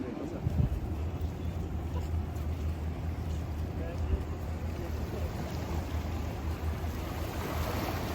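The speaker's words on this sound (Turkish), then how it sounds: "bak dalga yaptı" Waves washing and splashing near a boat on open water, a steady rushing surge with wind noise and a louder splash early on.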